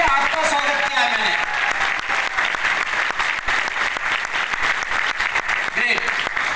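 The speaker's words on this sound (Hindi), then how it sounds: "जोरदार तालियां होनी चाहिए।" Steady, dense applause from an audience at a business networking event, continuous for several seconds with brief voices mixed in near the start and end.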